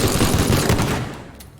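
Rapid gunfire in the video game Teardown, a dense burst of shots that fades out after about a second, loud and close with no talk over it.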